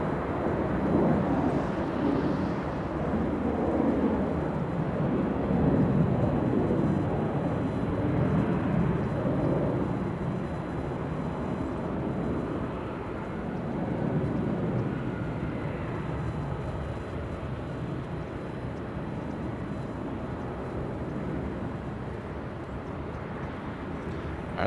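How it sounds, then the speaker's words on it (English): A Delta 737 airliner takes off at LAX, heard as a steady, broad, distant jet roar that swells slightly and then slowly fades. "And we also have a Delta 737. Looks like it's going to be a takeoff."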